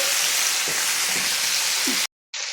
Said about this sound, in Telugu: ఆలూని కొద్దిసేపు ఇట్లనే ఫ్రై చేద్దాము